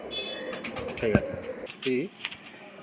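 A babna petiya pigeon gives two short, soft coos close by, with low voices and faint rustling around it.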